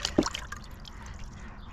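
Water drips and splashes from freshly dug razor clams being cleaned in a bucket, a few bright drops and a small plop at the start fading into quiet trickling close by, with no talk.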